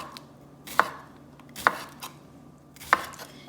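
A knife chops through a scored cucumber on a cutting board while making dill salad, giving three sharp, well-spaced knocks at a slow, steady pace with quiet room tone between them.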